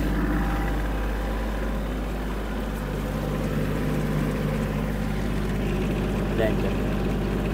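A Kubota GL-320 Japanese mini tractor engine runs with revs raised, a loud steady droning rumble held throughout, while someone briefly speaks over it.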